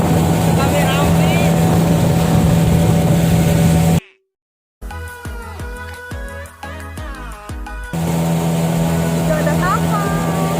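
A motorboat engine drones steadily on the water near a waterfall outing, a loud low hum with wind and water noise, cut by a brief silence and a stretch of music before the engine returns.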